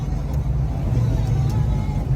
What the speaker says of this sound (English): We're going through all the gears nice and smooth up here.